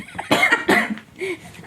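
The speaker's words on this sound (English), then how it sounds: "I can't stop coughing." A person coughs in a quick burst of two or three harsh, close barks, followed by a softer rasping breath.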